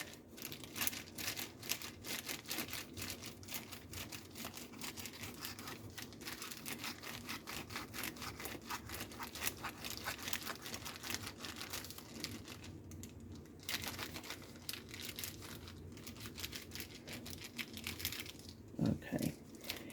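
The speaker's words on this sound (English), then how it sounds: "let me see if I can cut these in half with my bread knife" A bread knife saws through buns, cutting them in half, giving repeated soft rasping and crinkling strokes that are close and faint and continue steadily for the whole stretch.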